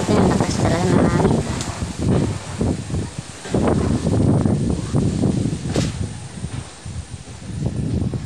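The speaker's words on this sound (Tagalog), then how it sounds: "Grabe, ang lakas talaga ng hangin." Typhoon Rolly's powerful winds shake and batter trees in loud, continuous gusts, the roar rising and falling with heavy rustling and microphone buffeting close by.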